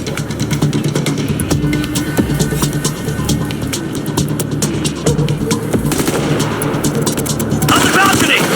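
Loud firefight gunfire in Ghost Recon Future Soldier, with rapid crackling shots and heavier bursts throughout and shouted voices mixed in.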